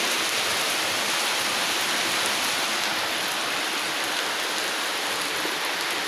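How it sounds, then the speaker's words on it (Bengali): Light rain falls steadily outside a mosque, a dense, even hiss of drops pattering close and fairly loud without a break and with no voices. "বৃষ্টি হচ্ছে, টিপ টিপ টিপ টিপ করে বৃষ্টি পড়তেছে।"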